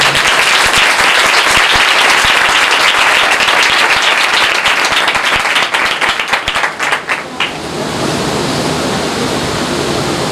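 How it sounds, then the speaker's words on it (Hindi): A church congregation bursts into loud, dense applause that pulses for several seconds, breaks into a few scattered final claps, and gives way to a soft hiss of room noise. "यीशु के लोगों के लिए जोरदार तालियां।"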